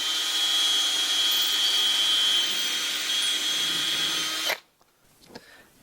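A power drill bores a long straight hole through the timber of a wooden boat, a loud steady whine running unbroken for about four and a half seconds before cutting off abruptly, leaving faint handling noises.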